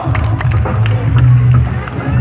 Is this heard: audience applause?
yes